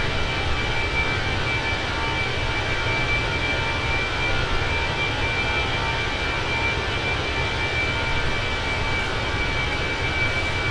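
The CFM jet engines of an Austrian Airbus A320 drone steadily during descent in Microsoft Flight Simulator 2020. The hum is even, continuous and fairly loud, with a faint high whine and no voices.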